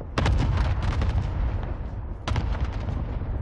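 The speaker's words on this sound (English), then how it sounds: "Allied cluster strike arriving" Cluster strike explosions in a Caldara video game match, two clusters of loud booming blasts in rapid overlapping succession, the first long and rolling, the second starting a couple of seconds later.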